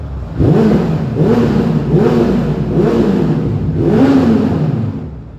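A Suzuki Bandit motorcycle engine, restricted to 34 hp, revs repeatedly, loud and close, its pitch rising and falling in about four surging pulses over a constant rumbling idle.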